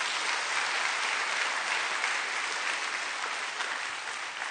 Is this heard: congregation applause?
yes